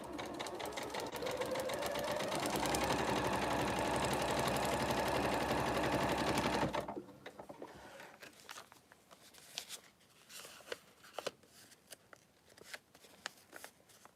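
Sewing machine stitches quilt fabric in a dense, rapid whir for about seven seconds, then stops, leaving soft handling rustles and small clicks of fabric being moved.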